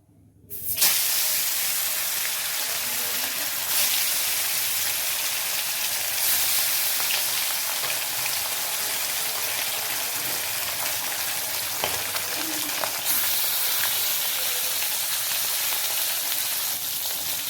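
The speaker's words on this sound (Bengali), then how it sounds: "এইভাবে আমি সবগুলো মাছ ভেজে নেব।" Catla fish pieces rubbed with salt and turmeric frying in hot oil in a kadai, giving a loud, continuous sizzle and hiss that goes on steadily throughout with almost no talk.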